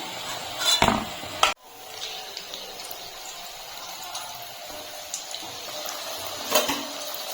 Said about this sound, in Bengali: গ্যাসের ফ্লেমটা মিডিয়ামে রেখে মুচমুচে করে ভেজে নেবো